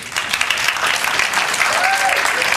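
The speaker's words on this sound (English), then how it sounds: "You guys will clap for anything" A church congregation applauds, steady, close, dense clapping from many hands that carries evenly through the whole moment, with a little talk mixed in.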